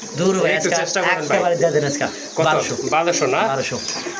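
Pigeons being sold as a matched pair coo softly in the background, partly buried under steady close conversation between people.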